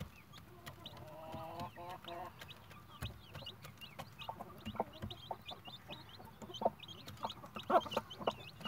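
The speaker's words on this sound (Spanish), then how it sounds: "se ven muy bonitos los pollos" Newly hatched chicks peep in quick high chirps while hens cluck softly nearby, a busy, fairly quiet mix of repeated calls with light rustling.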